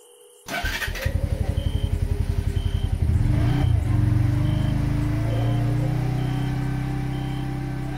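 A motorbike engine cranks with a rapid clattering burst, catches and settles into a steady running rumble that rises slightly as the bike pulls away, with a faint repeating electronic tone underneath.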